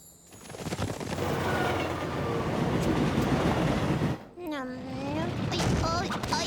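A loud, steady rumbling roar like a train passing close by, in an animated cartoon, fills several seconds, then cuts off abruptly and a voice cries out.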